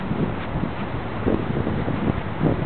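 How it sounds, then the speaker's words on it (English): Steady wind buffets the microphone, a low rumbling roar that swells and eases in gusts, with no voices. "cool, windy day."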